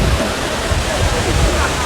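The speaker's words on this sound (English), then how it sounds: "This is the tallest waterfall here in West Africa." Wli Waterfall in Ghana's Volta region, the tallest in West Africa, roars as a steady, loud broadband rush of falling water close by, with no break.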